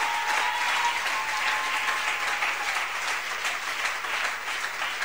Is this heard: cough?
no